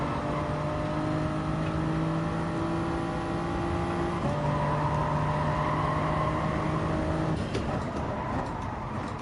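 Race car engine droning at high revs while driving in a racing video game, a steady loud whine with pitch steps as gears shift, continuous and unbroken.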